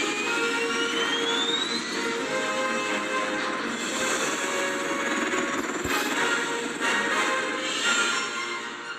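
Helicarrier jet engines spool up for takeoff in the LEGO Marvel's Avengers video game, a loud, steady roaring wash with a rising whine that holds throughout.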